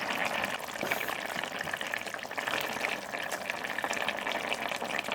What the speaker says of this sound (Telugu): ఈ గుమ్మడికాయ ముక్కల్ని మూత పెట్టి ఉడికిద్దామండి